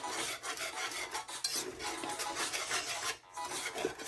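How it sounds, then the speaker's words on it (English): A spoon scrapes and drags through thick Jamaican plantain porridge in a pot on a stove at medium heat, a steady close rasping rub with brief pauses. "It's not easy to stir this."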